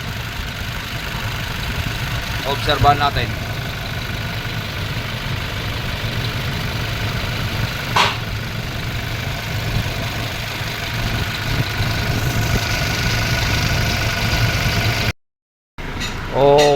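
A Toyota Innova engine idles after repair work, giving a steady, low, continuous rumble close by, while someone talks briefly over it.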